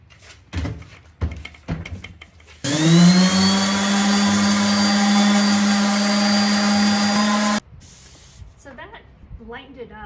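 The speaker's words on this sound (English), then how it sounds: "when I turn my sander on and off, I always have it on the surface that I'm sanding" A power sander with 150-grit paper whirs loudly and steadily on a wooden tabletop being refinished, for about five seconds, starting and stopping abruptly, with brief handling knocks and faint talk around it.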